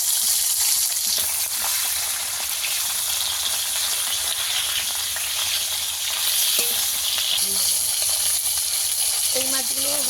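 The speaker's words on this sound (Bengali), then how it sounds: "একইভাবে বাকি মাছগুলো ভেজে নেবো" Pond fish sizzling in hot oil in a pan, a continuous bright hiss and crackle throughout, with a few faint clinks near the end.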